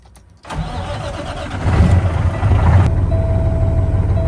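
Truck engine cranks and catches, then runs at a steady, fairly loud idle while building air pressure for a leaking brake canister, with a constant low rumble and no talk.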